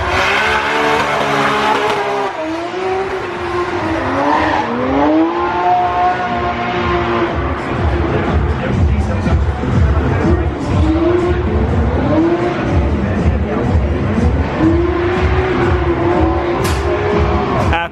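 A drift car at Drift Masters in Riga screams hard on acceleration into the first corner, its engine revving loud and close with rising and falling pitch and tire squeal throughout.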